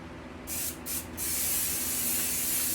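Short close bursts of aerosol hiss as upholstery spray adhesive is applied from a can onto a plastic layer for a pontoon boat seat, followed by a long continuous spray with no talk.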